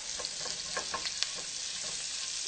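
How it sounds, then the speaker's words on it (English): Shallot frying in a pan's leftover meat juices over medium heat, a steady close sizzle with light crackles and soft stirring scrapes throughout. "So now in the same pan juices, we're going to add in the shallot."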